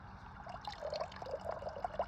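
A thin, low-pressure stream of water trickles and dribbles into a 20-litre bucket, quiet and steady with small splashing plinks.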